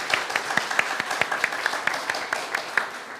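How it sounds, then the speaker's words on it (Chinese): Applause for three co-workers at a Taiwanese-language church service, a small group clapping in a loose, steady patter of distinct claps, moderately close, with light voices underneath. "来给他们掌声"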